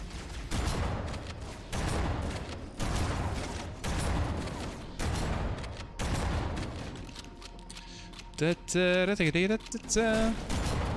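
Gunfire in the Halo CE video game comes as dense, sustained bursts of loud shots with short gaps, followed near the end by electronic warbling game effects.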